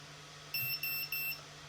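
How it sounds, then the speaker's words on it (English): Buzzer on a 7-inch long-range FPV drone build chirps three short electronic beeps as the battery is disconnected, close and clear over a low steady hum. "Alright, buzzer is work, as you can hear"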